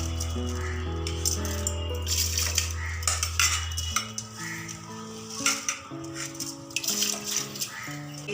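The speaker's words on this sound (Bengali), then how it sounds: "এবারে আমি গোবিন্দভোগ চালটা দিয়ে দেবো।" Gobindobhog rice pours into milk in a pot for traditional choshir payes, giving close, busy clinks and rattles of utensils against the pot over a low steady hum, with a steady tone dropping away midway.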